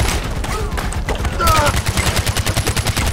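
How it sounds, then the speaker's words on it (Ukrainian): Rapid bursts of sniper gunfire in the video game Far Cry 4 crackle in quick succession, with sharp shots and a few high tonal zips over a dense, noisy background. "А, снайпер стріляє мені."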